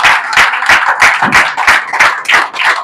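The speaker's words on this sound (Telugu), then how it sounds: "చప్పట్లు కొట్టేసానా మనం?" A church congregation claps in rhythm, about a dozen sharp, evenly spaced claps at a brisk steady pace, loud and close, with no talking over them.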